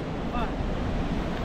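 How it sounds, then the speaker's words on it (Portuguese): Sea waves roll onto the beach at Ilha Comprida in a steady, rushing wash of surf, with strong wind buffeting the microphone throughout. "agora eu vou mostrar o mar, como que tá"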